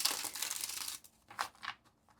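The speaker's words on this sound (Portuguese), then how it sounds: "Eu tô tentando embaralhar com mais distância do microfone" Tarot cards being shuffled away from the microphone give a brief rustling, crinkling flutter, then two short softer riffles after a pause.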